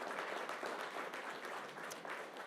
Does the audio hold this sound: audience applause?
yes